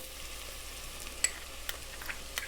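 Beef stew base sautés in a pot with a steady, moderate sizzle and crackle, broken by a few light clicks of stirring.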